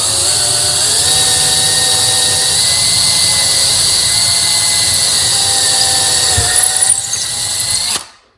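A power drill bores holes in a wooden cabinet door with a steady, loud, high whine held for about eight seconds, then it stops abruptly.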